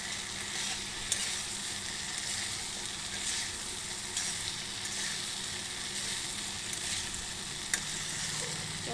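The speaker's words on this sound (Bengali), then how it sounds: "5 মিনিট ভাজার পরে" Soybean chunks and potatoes fry in a spice masala with a constant crackling sizzle, broken by a few sharp clinks of a spoon against the pan.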